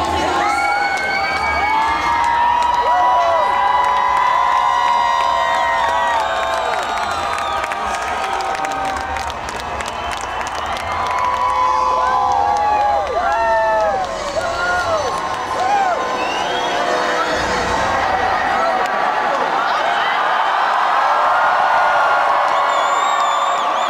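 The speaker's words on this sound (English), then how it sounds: "The crowds here have been in full swing" Dense crowd noise in Vancouver streets on Winter Olympics opening night: loud, continuous cheering, high whoops and shouting from many voices, rising and falling in waves, with some scattered applause and chatter mixed in.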